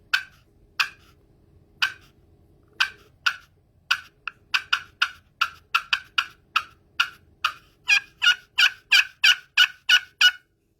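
A pot-style turkey call gives a series of sharp, popping clucks that quicken into a steady run of yelps, clear and close with no talking.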